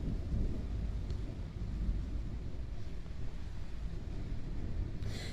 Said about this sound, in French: Je vous fais profiter un peu de l'orage.